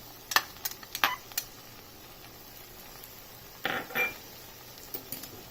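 Red chili powder being stirred into cooked mixed vegetables in a pan: soft, scattered clinks and scrapes of a spoon against the pan, a few quick taps early, then a longer scraping pass, all fairly quiet.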